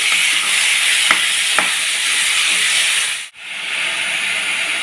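Green chillies and gongura leaves sizzling loudly in a pan for a prawn gongura curry, a dense continuous hiss with a couple of sharp stirring taps and a brief dip near the end.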